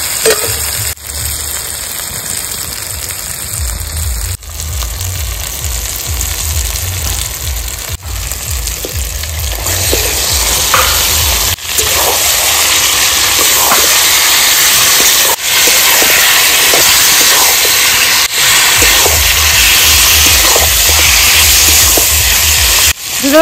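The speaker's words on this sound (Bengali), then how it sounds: "এবার দিয়ে দেবো ম্যারিনেট করে রাখা দেশি চিকেনটা" Marinated country chicken hits hot, sizzling masala in a village kitchen, giving a loud, steady hiss of steam and frying that runs throughout with scattered scraping and clatter, and no talk.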